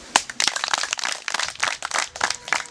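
A crowd claps at a campaign gathering in Kamegeri Sector, Nyamagabe District, giving a brief burst of dense, fairly close applause with uneven rhythm.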